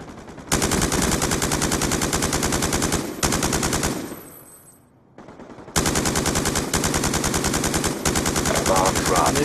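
Rapid automatic gunfire in a search and destroy video game match, close and loud in long sustained bursts, broken by a short lull with quieter effects before the firing resumes.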